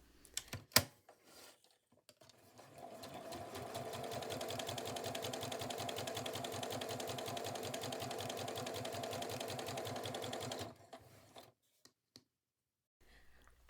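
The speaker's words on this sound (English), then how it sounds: "Continue to sew each new row, making sure you leave long thread tails at both the start and end of each row." A sewing machine stitching rows of elastic shirring thread into fabric runs steadily for about eight seconds with a fast, even mechanical hum and rapid needle ticking, framed by a few isolated clicks before and after.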